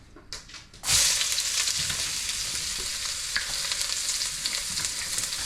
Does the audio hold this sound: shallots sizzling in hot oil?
yes